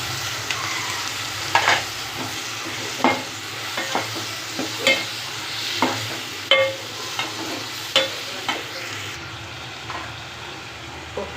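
Tomatoes sizzle in oil for a spicy fish curry while a spoon stirs them, making a soft frying hiss broken by a dozen or so sharp, irregular scraping strokes close by.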